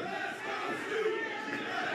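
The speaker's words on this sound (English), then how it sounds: "And the crowd getting behind the challenger. The crowd's getting behind Snoop." A wrestling crowd at an independent pro show roars steadily behind the challenger, Snoop Strikes, a dense, sustained wash of cheering and shouting voices with no pauses, fairly loud and even throughout.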